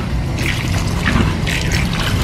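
Food being rinsed with water in a bowl, with close, loud continuous splashing and trickling and some brief swishing surges throughout.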